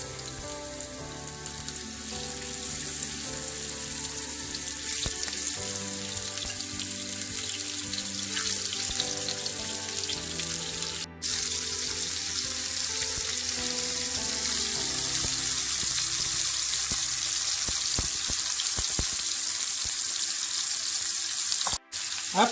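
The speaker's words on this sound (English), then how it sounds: "Once the oil gets heated, I'm going to add the shrimp." Shrimp fry in heated olive oil in a pan over a medium flame, giving a dense, steady sizzle and crackle that stays loud and close for the whole stretch, with a couple of brief clicks and no voices.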